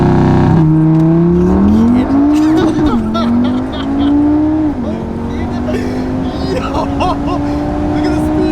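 A VW Golf Mk6 R fitted with an Audi RS3 five-cylinder engine making 520 bhp accelerates hard, its loud, close exhaust note climbing steadily through the revs with a brief dip at a gear change, voices faintly audible underneath.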